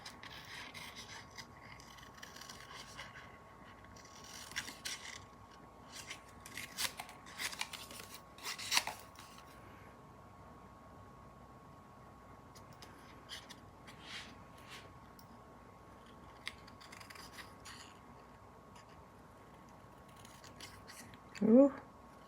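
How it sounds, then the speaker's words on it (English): Quiet, irregular snips of scissors cutting paper, with soft rustling of the sheet between cuts and a brief vocal exclamation at the very end. "Now we're going to take our scissors and fussy cut this dude."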